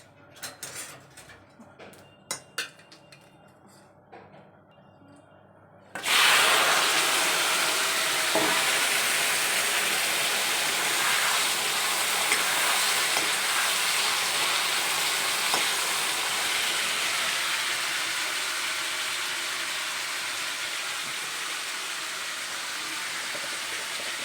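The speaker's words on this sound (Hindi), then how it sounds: "बस अब इसको जीरे से मैंने छौंक लगाई है।" After a few seconds of light clinks and taps, a loud sizzle bursts up as cumin seeds hit hot oil, then keeps crackling steadily and slowly eases off.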